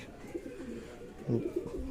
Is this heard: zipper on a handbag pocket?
no